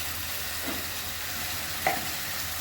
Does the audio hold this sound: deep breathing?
no